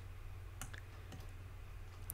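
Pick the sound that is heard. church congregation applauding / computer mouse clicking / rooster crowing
computer mouse clicking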